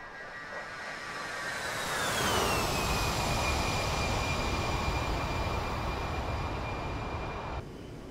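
A-10C jet engines in DCS World during a steady climb, a loud sustained turbine roar with a whine that glides downward in pitch, then holds a steady tone, with no talk.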